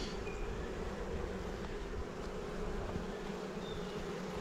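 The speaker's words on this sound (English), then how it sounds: "just hundreds of thousands of bees" A honey bee swarm of hundreds of thousands of bees gives off a dense, continuous buzzing drone that is loud and close, with no pauses or talk.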